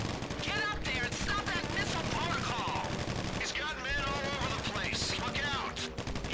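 Rapid automatic gunfire in GTA 5 Online, continuous and loud throughout, mixed with game voices and effects and a player talking over it.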